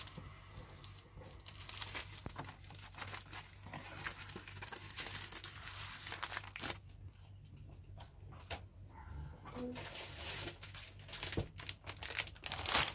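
A giant plastic bag holding parts of an Academy 1/48 North-American B-25B Doolittle Raid model kit crinkles and rustles close up, in busy irregular bursts that ease briefly midway before picking up again.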